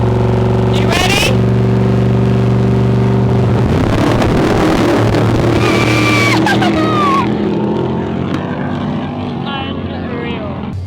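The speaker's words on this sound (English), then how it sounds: "When they pull away, not only do your eardrums feel like they're going to explode" Off-road desert race vehicles at the Mint 400 pull away with a loud, sustained engine roar that rises and shifts pitch as they accelerate, close to the microphone and overwhelming everything else.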